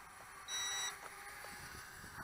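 An Eachine E52-TX WiFi FPV selfie quadcopter drone gives one short, high electronic beep against a steady whirring background, with no talk.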